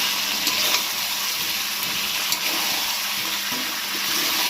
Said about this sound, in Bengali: এই যে দইয়ের মধ্যে জল দিয়ে দিলাম,